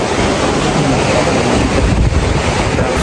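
Loud, steady roar of strong surf waves and wind buffeting the microphone, a constant rough wash with no breaks throughout.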